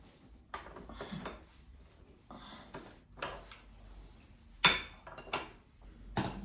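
A breaker bar and a 28 mm (1-1/8 inch) deep socket work loose a nut on a Ducati Monster S2R 1000 fork, producing scattered close metallic clanks and clinks with one sharp ringing clink partway through, over quiet gaps.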